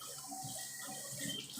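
Water poured into a glass over ice, a short steady liquid pour close by, faint and continuous with no talking.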